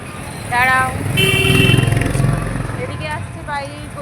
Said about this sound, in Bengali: এদিকে আসছে বাইক, ওইদিকে আসছে গাড়ি।